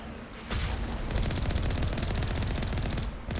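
Sustained rapid automatic gunfire from Mass Effect Legendary Edition, a continuous dense rattle of shots at moderate distance, steady for several seconds with no talk.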